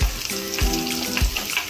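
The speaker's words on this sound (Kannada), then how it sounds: "ಮಸಾಲೆ ಎಲ್ಲ ಫ್ರೈ ಆದಮೇಲೆ ಅದ್ರ ಜೊತೆ ಈರುಳ್ಳಿ ಕಟ್ ಮಾಡ್ಕೊಂಡಿದ್ದು ಅದನ್ನು ಹಾಕ್ತಾ ಇದ್ದೀನಿ." Chopped onion dropped into hot oil with fried masala for a Karwar-style fish thali, crackling and sizzling loudly up close, with a few low thuds as pieces hit the pan, no voices.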